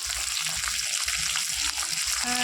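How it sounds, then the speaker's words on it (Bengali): Potatoes fry in a hot pan with turmeric powder, giving a steady, dense, close-up sizzle that crackles continuously from start to finish with no one talking. "এই দুই চার মিনিট ভাজার পর আলুগুলি ভাজা হয়ে গেলে"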